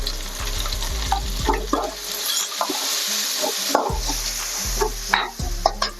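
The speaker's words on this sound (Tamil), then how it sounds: "வெங்காயம் நல்லா வதங்கிடுச்சு. நம்ம பூண்டு போட்டுக்கிறோம்." Onion and garlic frying in a pan for chicken puttu, a steady close sizzle broken by repeated scraping stir strokes, with no talking.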